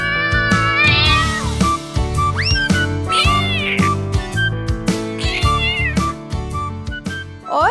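Cats meowing repeatedly in loud, close, drawn-out cries with rising and falling pitch, several calls in a row over a steady musical backing.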